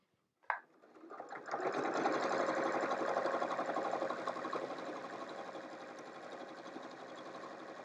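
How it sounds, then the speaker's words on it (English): A sewing machine stitches a straight line across a small mini quilt, starting with a sharp click and then running as a steady, close, continuous mechanical whir that eases slightly toward the end. "I'm going to start stitching right at the end. At the edge, I'll back stitch, and we're just going to stitch straight till we get to the other corner"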